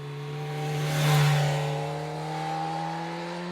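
An MV Agusta Brutale 1000RR, a 1000cc inline-four with radial valves, holds a steady, close idle. A brief throttle blip swells the engine note partway through, then it settles back to idle, with no voices.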